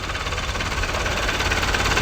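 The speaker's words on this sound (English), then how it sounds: "This got a big diesel engine" A 100 horsepower turbo diesel engine running a dredging pump for a pond drones steadily and close by, with a dense low rumble and a mid-range knock. No voices are heard over it.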